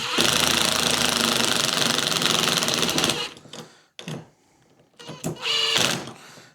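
A power driver runs a screw down into a custom bent metal bracket, a loud continuous buzzing whir for about three seconds, then stopping, followed by a few short bursts of driving with quiet gaps between.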